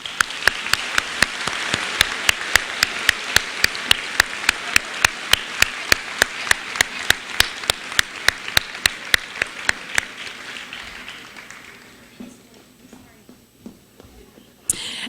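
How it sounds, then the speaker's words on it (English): A crowd applauds at a high school senior awards assembly. Loud, fast, even clapping carries on for about twelve seconds, then fades to a few scattered claps. "Now's a nice time for our round of applause."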